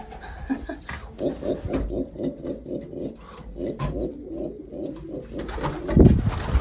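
Racing pigeons coo close by in soft, rhythmic repeated phrases, with a few fluttery bumps and a louder rustle near the end.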